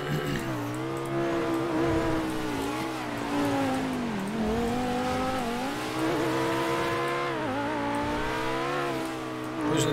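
Cars drive and race nearby as a steady, loud engine drone that rises and falls in pitch with repeated revving and shifting, running throughout without a break.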